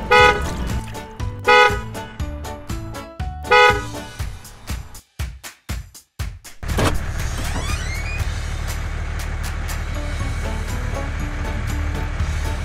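A cartoon dump truck sounds a few loud, spaced honks amid clattering, then a rapid series of clicks gives way to a steady rumbling engine and a rushing noise.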